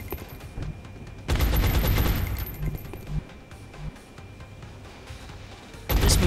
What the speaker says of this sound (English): So for now, lock it down. Suppressing fire on the